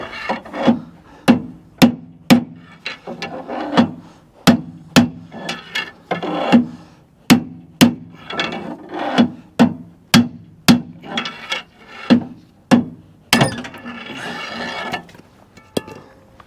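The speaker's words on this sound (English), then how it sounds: "I'm going to hit the race going down, hit the race on the top, and I'm just going to beat that that inside race out into the chain case" Repeated sharp metal strikes as a pry bar is hammered to drive a Bobcat axle bearing race out into the chain case, a steady series of loud ringing blows about every half second, close up with scraping between hits.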